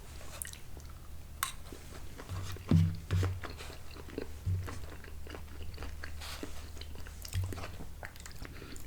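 Close crunchy bites and chewing of a piece of what seems to be celery from a bowl of Campbell's Chunky Classic Chicken Noodle Soup, with a few distinct crunches and softer chewing between them, quiet and intimate with no talk.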